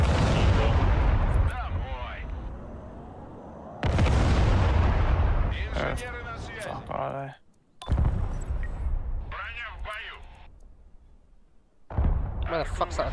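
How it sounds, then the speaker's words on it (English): Artillery and gunfire boom in heavy bursts during a Broken Arrow real-time strategy battle, loud repeated blasts with brief lulls between volleys, while players talk over the fire. "Where the fuck's that artillery firing from?"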